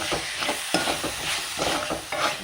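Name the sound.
stirring curry with tomato sauce in frying pan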